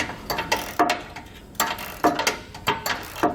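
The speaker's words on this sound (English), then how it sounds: "so we're going to be using a swivel socket here" A ratchet with a swivel socket clicks in quick bursts while tightening 10mm bolts during a base plate install, close and crisp, with short pauses between strokes.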